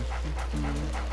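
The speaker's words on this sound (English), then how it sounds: "He'll basically bark for a little bit." Ghostly dog from the Luigi's Mansion video game, a two-legged spooky dog, panting and yipping in short repeated bursts over a steady low game hum.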